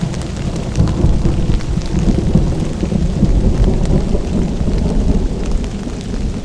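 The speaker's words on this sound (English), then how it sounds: "Oh man, there's lightning again." A heavy thunderstorm during a camping trip, with dense, steady rain pattering on surfaces nearby and low rumbles of thunder rolling underneath, loud and continuous with no voices.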